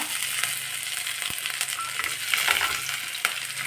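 Green chillies added to a pan of hot oil, sizzling and crackling steadily up close, with scattered stirring scrapes and small clinks.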